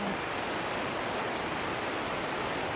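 Heavy rain pours steadily outside a polytunnel, a dense continuous hiss of drops drumming on the covering, loud and unbroken throughout.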